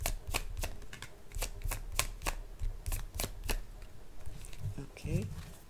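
A deck of tarot cards riffled and shuffled in a run of crisp, rapid snapping bursts, close and fairly quiet, with a soft voice murmuring near the end.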